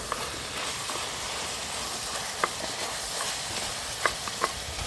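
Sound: stirring boiled mutton with chili powder

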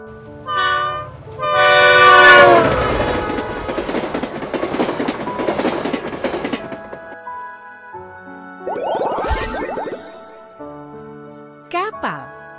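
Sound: train

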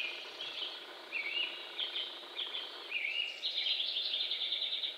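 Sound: birds singing at dawn

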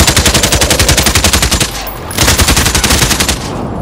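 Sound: gunfire in Call of Duty Modern Warfare video game

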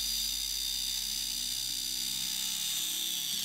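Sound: Dremel rotary tool drilling a hole into a doll body

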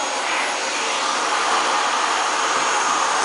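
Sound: vacuum cleaner running

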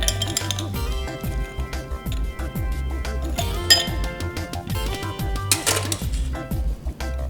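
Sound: cocktail shaker cap and strainer handled, water poured out

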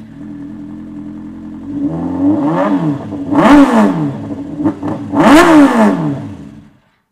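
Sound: Kawasaki ZX10R Ninja motorcycle engine revving

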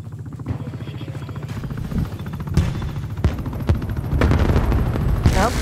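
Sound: sniper gunfire in a multiplayer video game

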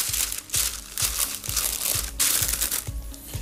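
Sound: sheet of non-stick baking paper being crumpled

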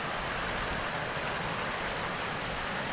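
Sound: stream water falling at a waterfall

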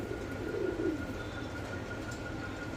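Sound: pigeons cooing

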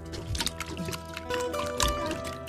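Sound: washing sliced pig liver with salt and water

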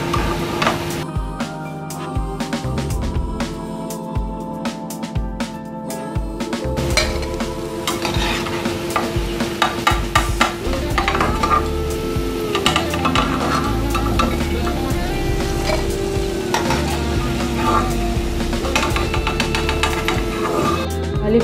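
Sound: cauliflower egg 65 frying in pan

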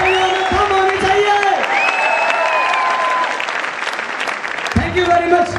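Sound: stadium crowd applause

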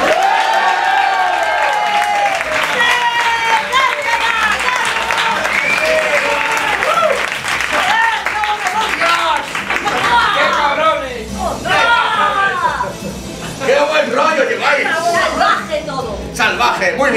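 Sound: audience applauding and cheering in a bar

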